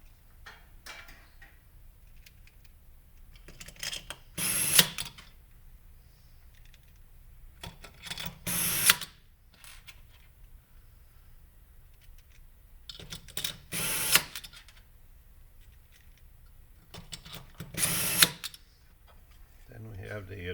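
A power tool drives screws into a block during assembly of an 800 series unit. Four short whirring bursts come at spaced intervals over a quiet background.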